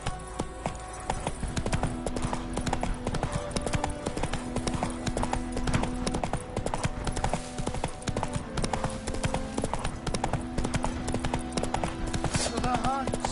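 Roach, the horse in The Witcher 3, gallops with loud, rhythmic clip-clop hoofbeats throughout, layered with game music and a voice speaking over it.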